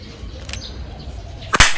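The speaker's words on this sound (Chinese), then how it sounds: "用竹枪的爆竹声响惊吓驱赶" A handmade bamboo toy gun used for scouting goes off with a single sharp, loud crack like a firecracker near the end, preceded by faint outdoor ambience and a smaller click.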